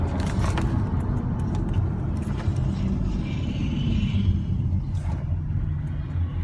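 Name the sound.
2013 Chevrolet Camaro 2SS engine shifting into third gear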